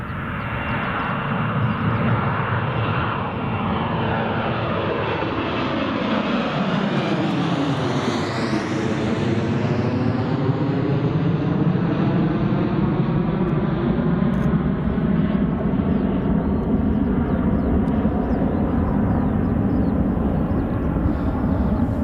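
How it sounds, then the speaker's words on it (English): A passenger jet on a Malta flight passes at Newcastle Airport with a loud, continuous engine roar whose pitch sweeps downward as it goes by, then a sustained rumbling wash as it moves away. "That's a Malta flight heading down to the Mediterranean"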